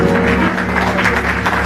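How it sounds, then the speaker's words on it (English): Church congregation clapping in praise during a service, a dense, steady wash of hands over a sustained tonal backdrop, likely organ or keyboard, loud and continuous throughout. "give God a hand clap of praise."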